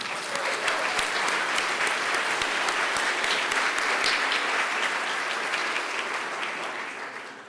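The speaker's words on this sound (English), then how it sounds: "Can we please give them all a round of applause?" Sustained, dense audience applause at an awards ceremony, loud and even for several seconds with sharp individual claps standing out, then tapering off toward the end.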